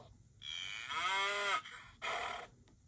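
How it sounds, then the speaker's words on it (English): A cow on a farm lets out a long, drawn-out moo followed by a shorter second call, both clear and close against a quiet background. "Cow."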